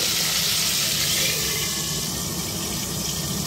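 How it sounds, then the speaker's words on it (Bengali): Stuffed spiny gourds fry in hot oil in a pan, giving a steady, fairly loud hissing sizzle throughout with no talk. "কাঁকরোলগুলোকে তেলে দিয়ে দিচ্ছি"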